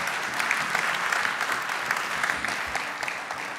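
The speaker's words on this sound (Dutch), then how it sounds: "Nou, nog even hartelijk applaus." An audience at the end of a late-night tech talk evening on digital safety applauds warmly, sustained and even clapping throughout with no break.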